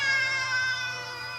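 A cat gives a single drawn-out, whining meow, clear and fairly close, held steadily for more than a second with no talk over it.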